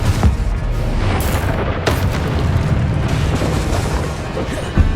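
Confringo explosive spell in the video game Hogwarts Legacy bursts with heavy booms and rumbling blasts, loud and continuous, with a sharper crack about two seconds in and a brief pop at the close.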